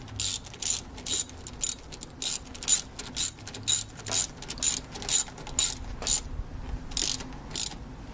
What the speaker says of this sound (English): So we've tightened up those two bolts.